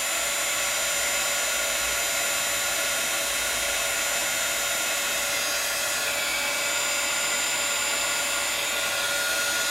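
A heat tool warming metallic gold embossing powder, blowing a loud, steady, unbroken whirring hiss for the whole stretch, alone and without talk.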